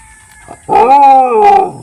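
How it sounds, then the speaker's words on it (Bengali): A dog lets out a single loud, drawn-out yelping howl close by, following a short faint yip, and nothing else stirs around it. "কুকুরগুলো দেখা যাচ্ছে"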